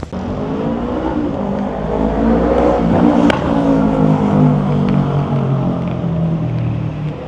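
A KTM 390 Adventure motorcycle riding through a city at night, its engine droning steadily up close, the pitch rising and falling with throttle changes and a single sharp click partway through.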